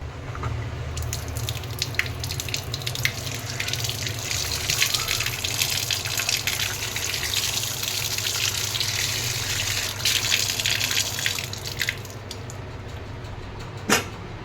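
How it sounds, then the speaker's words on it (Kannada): A steady gush of tap water pours into a sink, loud and close, continuing without a break and ending with a brief clunk. "ಇವಾಗ ಮನೆಯಲ್ಲೇ ನೀರು ಬರ್ತಾ ಇದೆ ಸಿಂಕಲ್ಲಿ"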